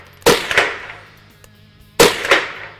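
Two close, sharp reports from a Ruger 10/22 rifle, each crack followed by a quick echo, spaced almost two seconds apart with quiet between them.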